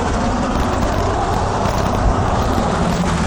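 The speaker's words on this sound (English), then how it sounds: "I don't know if this truck is coming this way." A truck's engine on a street gives a constant broadband road rumble close by, steady throughout with no clear pass-by peak and no speech.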